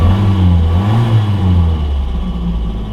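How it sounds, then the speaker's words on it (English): A 1977 left-hand-drive Ford Fiesta Mk1's small engine idles while the car reverses, a close, steady low hum with a gentle rise and fall in pitch and no talking. "Sounds a nice little engine."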